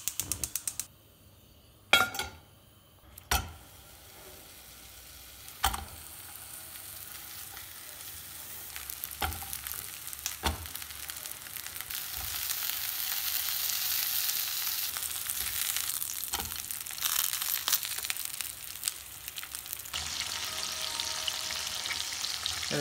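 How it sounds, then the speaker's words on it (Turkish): Peach kebab skewers fry in a pan on the stove, with a steady close sizzle building over time and occasional sharp clicks and knocks of handling. "Evet, şimdi bunları ocakta tavanın üzerinde bir güzel pişireceğim."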